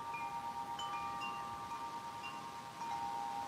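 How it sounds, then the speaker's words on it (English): Cold outdoor wind buffeting a microphone in a quiet setting, a soft low rumbling rush that swells and eases, with faint distant tones above it. "it's a little cold and windy"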